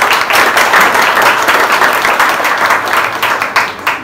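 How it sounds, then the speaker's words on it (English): Audience applause for a cafe at an entrepreneurship night, steady dense clapping from a room full of people, loud and continuous throughout with no speech over it. "So if you could just clap hands for them for that."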